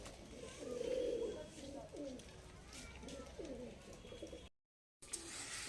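Pigeons waiting for food coo in a series of loud, close, rolling calls that repeat every second or so, with a voice speaking partly over them before a brief gap of silence.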